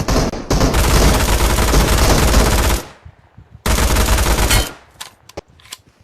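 Automatic gunfire on the Aftermath map of PUBG Mobile, with two long, loud, rapid bursts split by a short pause, followed by a few scattered single shots.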